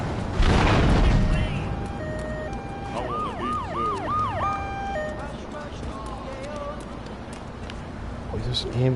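Wailing ambulance siren in the video game GTA 3, rising and falling through several sweeps amid traffic noise, with a voice briefly heard before the siren comes in.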